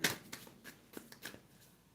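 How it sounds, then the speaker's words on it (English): Tarot cards are shuffled softly up close, a quick run of papery riffles and flicks with small pauses between them. "Shuffle these a bit."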